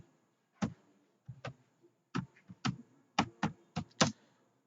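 Close, sparse keystrokes on a computer keyboard tap out in an uneven rhythm, about a dozen distinct clicks with short pauses in a quiet room.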